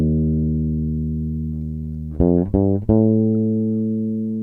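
Electric bass sustains a low static note, then around the middle three quick plucked notes sound a minor third interval over it, ringing on with gradual decay; alone, no talk.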